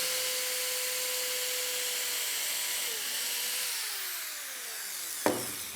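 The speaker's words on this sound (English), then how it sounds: "drill a pilot hole into it" A drill bores a 9/64 pilot hole into wood, its steady high whine sliding lower in pitch as it winds down, closing with a single sharp knock.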